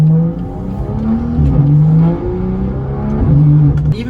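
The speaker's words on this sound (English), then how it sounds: "let's do some city driving with the valves open now" BMW M car with exhaust valves open cruising through city streets, a loud close engine note rising through gears in repeated pulls, each climb cut by a brief shift dip.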